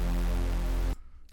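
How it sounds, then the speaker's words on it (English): A standard Reese bass, a detuned saw wave synth, drones heavy and buzzing for just under a second before cutting off abruptly into near silence. "Just a standard Reese bass, also saw wave, little bit of detune,"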